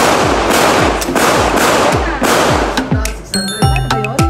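Gunfire at an indoor Armscor shooting range in Marikina: a rapid series of about eight loud, sharp, close shots with booming echoes, followed by fainter metallic pings and clatter.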